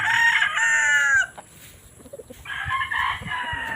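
Fighting roosters crow loudly and close at a chicken farm, with one long crow followed by softer clucking and a second crow.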